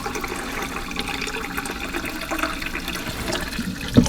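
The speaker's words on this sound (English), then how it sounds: "we're going to add 2 cups of water" Water pours steadily into a pot already holding apple cider vinegar, a continuous close splashing rush for several seconds that ends with a small knock.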